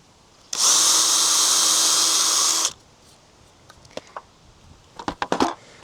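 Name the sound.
power drill drilling pilot holes in treated lumber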